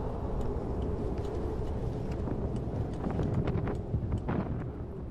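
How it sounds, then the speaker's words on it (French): Strong wind blowing outdoors at sunset, a steady loud rumbling roar buffeting the microphone throughout, with faint clicks and knocks scattered over it. "Le vent finit par tomber avec le coucher du soleil."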